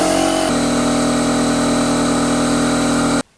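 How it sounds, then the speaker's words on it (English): A cheap air compressor from Amazon runs loud and close with a steady droning hum, shifts pitch slightly early on, then cuts off abruptly near the end. "this is about 10 decibel louder than the other compressor"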